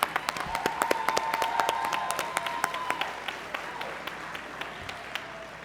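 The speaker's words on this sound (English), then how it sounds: "Round of applause again for everyone." Audience applause at an awards dinner gala honoring past honorees, a dense wash of many hands clapping with sharp individual claps standing out, steady and moderately loud before gradually thinning toward the end.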